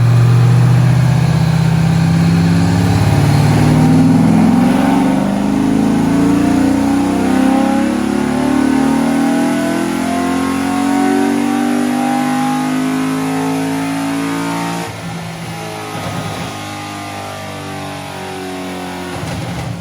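A car engine runs on a dynamometer after fuel priming, revving with rising and falling pitch sweeps, loud and close, then settling toward a rougher idle near the end, with no talking.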